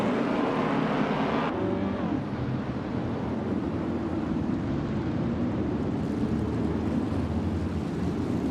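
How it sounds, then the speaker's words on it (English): A 1960 Scarab Indy race car in a racing video game drones along with a steady, loud engine roar that holds nearly constant throughout, with a brief shift in pitch early on and no talking. "Perlux 788 is driving a 1960 Scarab Indy"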